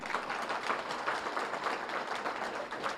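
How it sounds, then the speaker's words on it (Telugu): A crowd gives steady, sustained applause at a live talk, a dense continuous clatter of many hands clapping together with no clear breaks. "గట్టి చప్పట్లు కొడదాం ఆయనకి"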